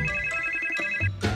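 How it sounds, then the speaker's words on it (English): A telephone rings loudly and steadily in a movie trailer scene, a continuous electronic ringing tone close by, ending with a brief noisy burst. "Answer the phone."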